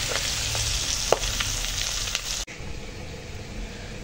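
Steady hiss and crackle of fish swim bladders frying in hot oil, with a few sharp pops early on before the sizzle drops to a softer, duller fizz.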